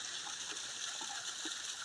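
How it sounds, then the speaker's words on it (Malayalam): Spring water pours steadily from a hole in the ground on a Kerala hillside, a soft continuous gushing and splashing that stays fairly faint with no voices over it. "അതിൻ്റെ ഉറവ പൊത്തിന്ന് വെള്ളം പുറത്തേക്ക് ആടുന്നുണ്ടോ"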